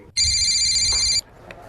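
A telephone rings once in a single bright electronic burst of about a second, loud and close, ending abruptly and followed by quiet room sound.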